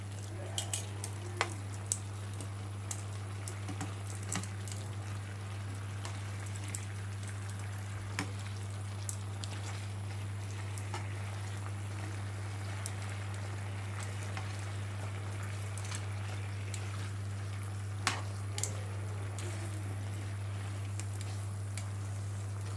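Sticky chicken pieces fry steadily in a pan of caramelizing sauce over medium heat, a soft continuous sizzle with occasional small pops and clicks, over a constant low hum, with no talking.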